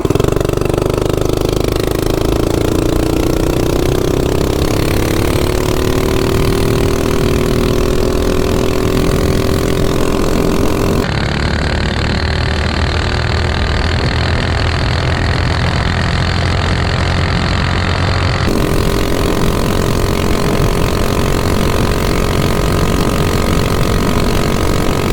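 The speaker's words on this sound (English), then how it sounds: "Top speed run. Predator 224 on the Baja Warrior MB 200." A Predator 224 engine on a Baja Warrior MB200 mini bike runs flat out on a top speed run, its loud buzzing drone climbing steadily in pitch and holding high with no talk.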